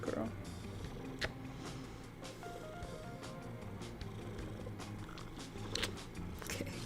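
A pet cat purrs close up with a steady low rumble while kneading and headbutting, with soft rustling and small bumps, and a person talks quietly at times.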